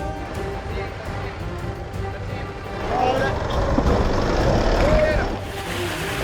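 A 4WD engine labours at low revs while the vehicle crawls over big rock steps on a rough off-road track, a steady rumble that swells slightly midway, with a little background noise.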